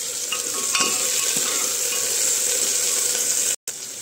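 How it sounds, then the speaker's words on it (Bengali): Potatoes frying in a pan with salt and turmeric, stirred steadily, giving a continuous close sizzle with scraping spatula strokes throughout and a brief dropout near the end. "এখানে আলুটা ভাজা ভাজা হচ্ছে"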